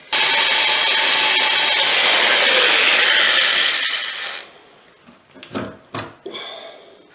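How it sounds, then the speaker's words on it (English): A power drill bores into the head of a stuck Moen faucet part, a loud, close grinding whir for about four seconds that fades out, followed by a few short scraping knocks. "I'm going to just try drilling out the head."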